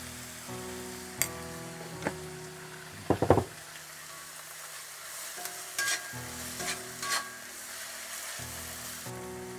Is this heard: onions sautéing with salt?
yes